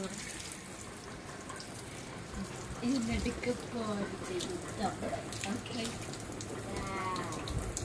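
Water runs steadily from a tap with a hissing splash, while voices talk intermittently over it.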